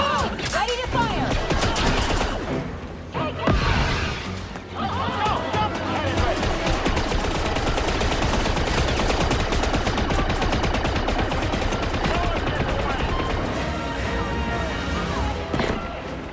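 Sustained gunfire in Star Wars Outlaws, dense bursts and volleys filling the whole stretch at steady loudness, with shouted voices and battle chatter mixed in underneath.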